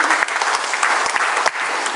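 An audience at a library and archives management outreach session breaks into loud, close applause, a dense, sustained clapping with no talk over it.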